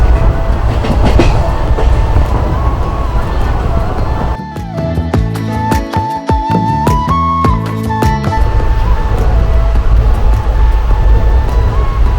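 A passenger train runs between Pendra Road and Jabalpur on a rainy, overcast day, giving a loud, steady rumble and rolling rail noise heard from on board, with a brief stretch of clattering, tonal wheel and track sounds midway.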